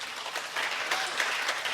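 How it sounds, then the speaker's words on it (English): Audience applause at a Lowlands festival award event, a steady wash of many hands clapping at once, dense and even, with no voices over it. "Give him a big round of applause."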